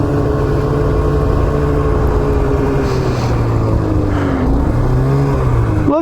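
A Polaris Assault snowmobile runs loud and close on a lake trip, its engine droning steadily with gradual pitch rises and dips as the throttle shifts.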